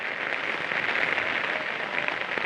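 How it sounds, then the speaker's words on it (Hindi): Heavy rain falls in Chhingchhip, Mizoram, a dense, steady hiss of drops hitting surfaces close by, unbroken and without talk. "बारिश तो बहुत है"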